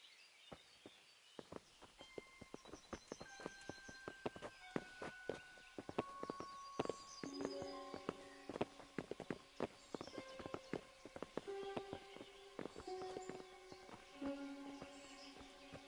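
Horses walking in the video game Kingdom Come Deliverance, a series of faint irregular hoof clip-clops mixed with other light game sounds and brief tonal chimes, no speech.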